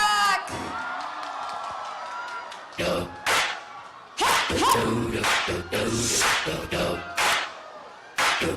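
An audience screams and cheers to welcome the performing group Fourth Impact at Lucky ChinaTown, with bursts of loud whoops and yells between shouts from an announcer.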